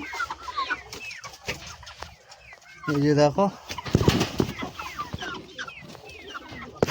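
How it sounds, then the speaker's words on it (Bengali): Australorp chickens cluck nearby in a poultry area, with repeated short clucks and one louder drawn-out call mid-way, under someone talking. "এই যে আমার অস্ট্রেলিয়া মুরগি কিছু"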